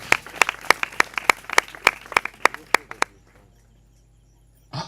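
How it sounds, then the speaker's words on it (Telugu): A church congregation at a gospel meeting claps in a quick, steady burst of about a dozen sharp hand claps that stop at three seconds, followed by near silence and a brief muffled thump at the end. "చప్పట్లు కొట్టండి ఒకసారి"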